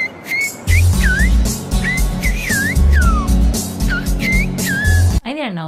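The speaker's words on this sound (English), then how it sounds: "It's a language completely composed of whistles." A series of clear, sliding whistles of Silbo Gomero, a whistled language, rises and falls in short phrases like speech, over a low engine-like rumble, ending in a quick downward warble.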